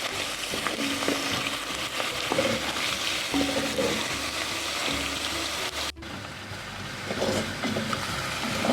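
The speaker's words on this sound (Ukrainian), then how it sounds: "я додаю знову трішки олії і додаю цибулю. перемішуємо." Onion frying in a little oil for a vegetable ragout crackles and sizzles close by, while a spoon stirs and scrapes against the pan with intermittent clatter. The sound briefly dips near the end, then the sizzling resumes.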